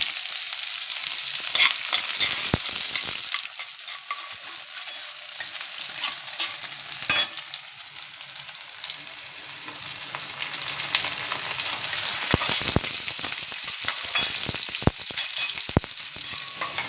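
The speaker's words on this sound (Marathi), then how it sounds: "हा कांदा भाजून झालेला आहे" Onion frying in oil with cumin seeds and curry leaves while being stirred in a pan, a steady close sizzle broken by scraping stirs, with no voices.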